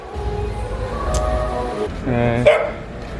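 Dogs bark and yip close by, a few sharp barks with a whimper, over background murmuring and outdoor noise.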